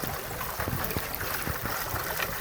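Water rushing and gurgling through a Gold Ram panning sluice held under a stream, a continuous close splashing wash with small knocks and sloshes, no talking.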